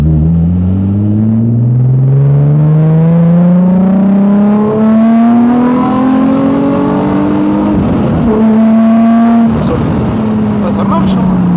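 A V6 car fitted with a NOS kit pulls hard, its engine note climbing steadily through the revs for several seconds, briefly dipping at a shift, then rising again, loud and close with people talking over it.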